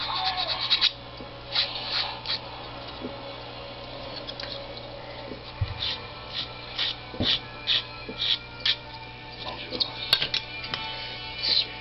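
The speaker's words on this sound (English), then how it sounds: "come back with a sanding stick or some sandpaper and just smooth out any rough edges" Repeated short scraping strokes of a sanding stick smoothing rough edges on plastic scale-model parts, a quiet rhythmic rasping of abrasive against hard plastic, with a few soft clicks in between.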